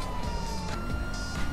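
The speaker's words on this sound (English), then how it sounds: "Why is all these sirens?" A police siren wails through the streets of a GTA game, a loud, close electronic tone with shifting pitch sweeps, layered over traffic noise and briefly sustained.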